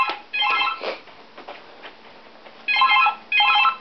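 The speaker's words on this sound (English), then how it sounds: "phone's ringing, I'll just go and see who it is" Phone ringing indoors, where the caller turns out to be an 0800 number: bursts of bright electronic trilling, two near the start and two more toward the end, separated by a quieter stretch with faint background sounds.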